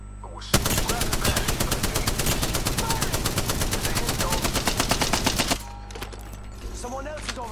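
Gunfire in a shooter video game: a long rapid burst of automatic fire, a dense string of sharp, loud cracks lasting about five seconds, then it stops abruptly and softer game sounds follow.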